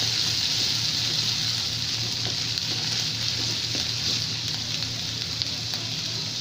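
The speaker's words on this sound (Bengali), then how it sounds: "আদা বাটা, রসুন বাটা, এগুলো আমি পেঁয়াজের সাথে একটু ভাজবো" Ginger and garlic paste fry with onions in a pan, making a steady, soft, even sizzle with a faint low hum beneath and no talking.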